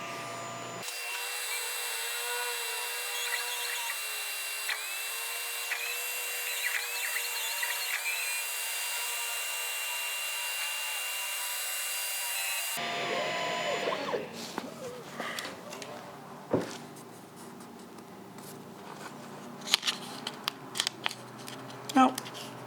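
An Ortur Laser Master laser cuts a logo stencil from heavy paper over a steel base, giving a steady high-pitched fan and machine whine with faint cutting ticks, then a noisier stretch of handling clatter and thumps.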